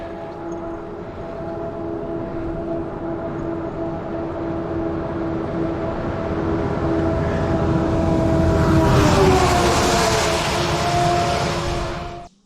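A heavy truck roars past on a rainy, uphill road during a cycling trip from Jasper to Prince George, a loud steady rumble building to a peak and fading as it passes close by.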